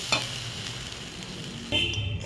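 Rice frying in a pot for pulao, a constant close sizzle with a couple of stirring scrapes, the hiss swelling louder near the end.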